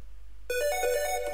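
A bright square wave synth from Serum thickened with Fruity Chorus, entering after a brief near-silent pause and holding a sustained, buzzy tone with a few shifting notes, loud and alone.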